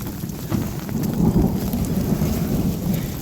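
Steady rain falls outdoors onto flooded permaculture swales and soil, a dense continuous wash with rumbling low-end like distant thunder, fairly loud and unbroken with no voices.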